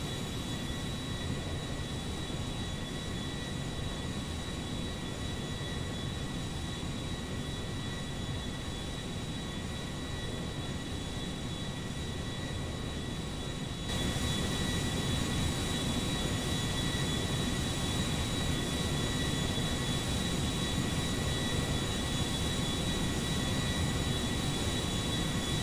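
Airbus A340-600 airliner from GTA V flying low near a mountain, a steady broadband engine roar that holds continuously and grows louder partway through, with no talk over it.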